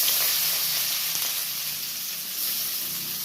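Onion frying in hot oil with curry leaves gives a soft, even sizzle and hiss throughout, fairly close and without any talk.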